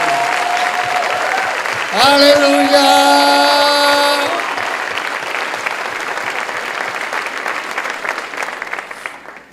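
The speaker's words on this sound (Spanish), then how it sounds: "Que alguien le aplauda fuerte a ese Cristo." A church congregation applauding steadily during a sermon, with an air horn blasting a few loud tones partway through, voices shouting over the clapping.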